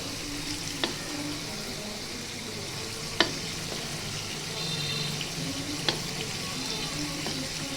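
Small tengra fish sizzle and fry in an oil-filled pan in a home kitchen, giving a steady soft crackle with a few sharp clinks of utensils against the pan.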